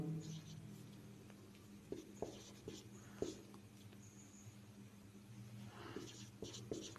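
Chalk or a marker scratches and taps on a classroom board in short strokes during a history lesson, faint and close, with a voice around the writing.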